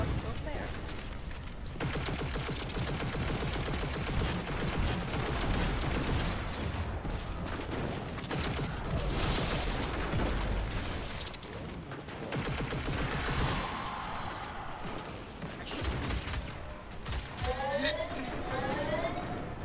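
Dense gunfire and clanking weapon mechanics from a Destiny 2 raid, sustained and loud throughout, with players talking over the shooting.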